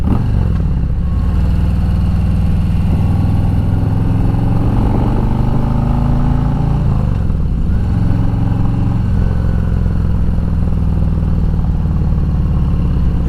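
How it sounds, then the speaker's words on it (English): Harley-Davidson touring motorcycle engine and exhaust while riding, a loud, steady low rumble with a throttle change that shifts the pitch midway, heard close up from the bike with wind noise and no talking. "When I throttle the bike, yeah, then you can hear the exhaust"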